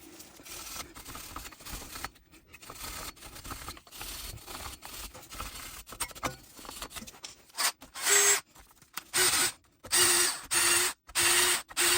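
An abrasive disc scrubs rust off the brake hub face of a 2016 Subaru Crosstrek, with scratchy rubbing at first, then loud repeated grinding bursts separated by short pauses, close up, no talking.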